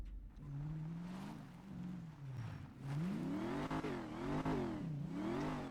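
Modded car engine in the FiveM game, starting up and revving in repeated rising and falling sweeps, smooth and fairly clear with no talking.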